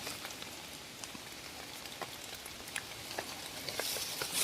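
Heavy rain comes down outdoors during termite-mushroom foraging, a steady close hiss of drops pattering on surfaces that swells slightly near the end.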